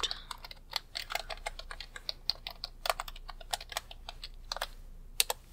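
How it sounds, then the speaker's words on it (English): Soft, quick keystrokes on a computer keyboard as a code is typed in at a library desk, close and quiet, in uneven bursts with brief pauses and no talking. "Let me just type the code in really"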